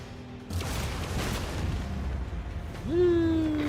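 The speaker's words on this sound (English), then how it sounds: "Unleash the storm of macro cannons." Macro cannons fire in the Rogue Trader game, a sustained heavy booming barrage of rolling explosive blasts, followed by a rising synthetic whine at the end.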